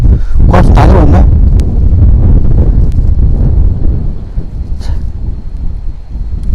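Strong, gusty wind batters a microphone on a clifftop above a valley gorge during a drone flight, a loud continuous rumbling buffet that eases slightly near the end.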